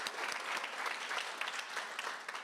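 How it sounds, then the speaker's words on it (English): A crowd claps continuously during a 2025 community sing-a-thon performance, an even, full-bodied patter of many hands that holds steady from start to finish, close and moderately loud. "Give them a round of applause."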